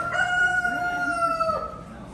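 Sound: rooster crowing

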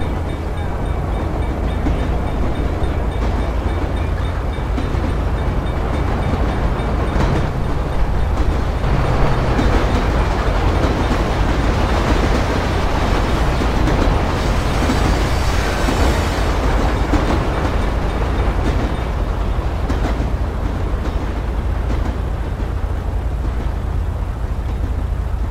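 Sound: train passing by, from video game GTA V (LSPDFR)

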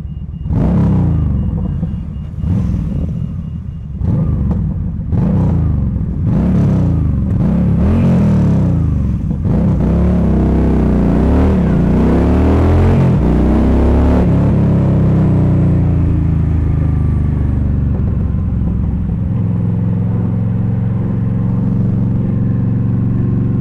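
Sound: motorbikes revving

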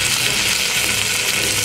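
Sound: bacon sizzling in a pan

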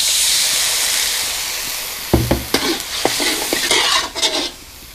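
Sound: water poured into frying curry paste

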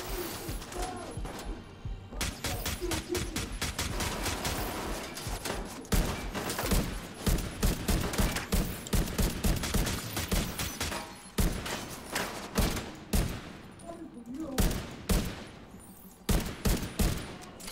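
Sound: gunfire in the video game The Division 2

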